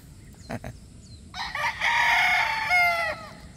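An abonayon straight-comb gamecock crows once, a loud, drawn-out cock-a-doodle-doo close by, preceded by a couple of short clucks and quiet farmyard noise.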